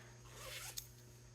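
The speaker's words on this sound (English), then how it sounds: "So it has the little zipper pouches, so you can unzip it." Zipper on a fabric garden herb drying pouch, one quick zip heard up close and quiet over a steady low background hum.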